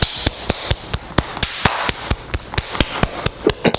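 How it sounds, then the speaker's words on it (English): Bare hand rhythmically slapping along a forearm bone during martial arts conditioning for elbow, forearm and knifehand strikes, giving a steady run of sharp, close, evenly spaced smacks. "Start with tapping your hand. And then forearm. So we're on our forearm right now."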